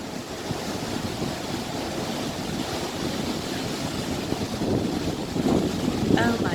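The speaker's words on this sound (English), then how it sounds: "Oh my gosh, the wind is really blowing, so it's blowing the camera around." Strong wind buffets a camera outdoors at Kings Canyon, a constant loud rumbling roar that swells slightly toward the end, with brief voices near the close.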